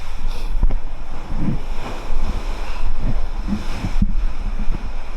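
Strong ocean waves at Boracay, Philippines churn and splash close by, mixed with gusty wind rumbling against the microphone, a rough, continuous rush with a few sharper knocks.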